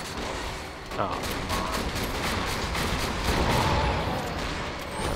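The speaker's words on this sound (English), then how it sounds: "I am using my corrosive rocket launcher" Corrosive rocket launcher fired in the video game Borderlands 2 amid a dense, continuous battle din of gunfire and blasts, with a brief exclamation from a player over it.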